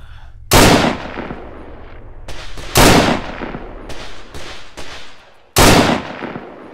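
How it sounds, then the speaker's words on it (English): Starter pistol shots in the video game Arma 3 DayZ Exile: three sharp, loud, close cracks spaced a couple of seconds apart, with a few softer pops between them. "let me see if I can kill him with a starter pistol"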